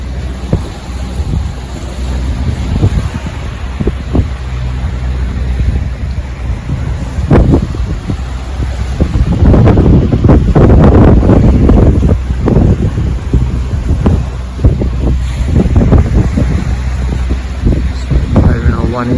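A sailboat motoring on one engine at sea with a light following swell, giving a steady low engine drone mixed with wind buffeting the microphone and sloshing water throughout.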